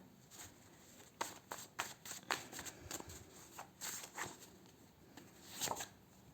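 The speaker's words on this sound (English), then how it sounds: "I'm going to pull some health and lifestyle cards for you." Tarot cards are shuffled for a health and lifestyle reading, giving faint, close crisp riffles and snapping card flicks in irregular bursts with no voice.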